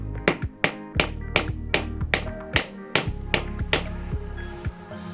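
Laminate floor planks being struck to close a separated joint and stop squeaking: about a dozen sharp, hollow knocks in a quick steady rhythm, close and loud.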